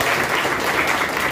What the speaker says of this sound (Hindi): तो एक बार जोरदार तालियां करूँ